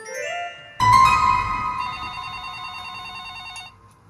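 A telephone rings loudly and close, with a bright electronic trill sustained for about three seconds before cutting off.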